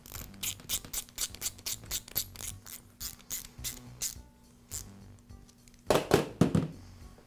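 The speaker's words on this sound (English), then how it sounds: "I'll place the bowl onto the carburetor and secure it with the nut." A ratchet wrench tightens the nut that holds the bowl onto a Briggs & Stratton small-engine carburetor. Close, rapid clicking comes in several short bursts, then a louder, harsher run of clicks near the end.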